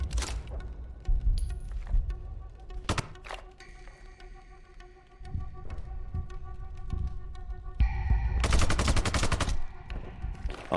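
Gunfire in Sniper Ghost Warrior 2: scattered sharp single shots early on, then a dense burst of rapid automatic fire near the end, loud and close over a low ambient hum, with no speech.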